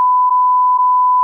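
A censor beep sound effect: a single loud, pure electronic tone held steadily for over a second, alone and without any voices.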